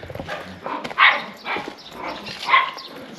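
Several small puppies yap and bark in short overlapping bursts, fairly close, with a noisy outdoor street background in Morocco.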